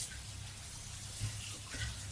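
Cold tap water runs steadily into a kitchen sink as chicken wings are rinsed, making a soft, continuous rushing hiss with slight splashy variations.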